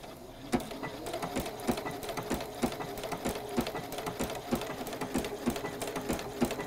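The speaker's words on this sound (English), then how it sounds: "when you're sewing machine buttonhole, it likes to go forward, back and then down" A sewing machine stitches a buttonhole with a quick, steady mechanical chatter and regular clacks, close and fairly quiet, running alone without talk.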